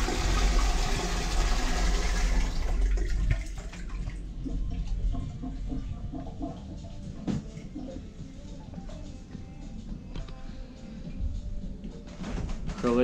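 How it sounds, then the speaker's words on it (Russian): A toilet in an oil tanker's cabin flushes with plain water: a loud rushing burst for a few seconds, then a lower, steady gurgling and trickling that continues as it drains and refills. "На данном судне у нас обычная система работы туалета. Смывается просто водой."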